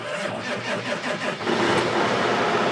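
A John Deere 9570 RT tractor with a 15-liter Cummins engine turns over and catches, then settles into a loud, close, steady running rumble.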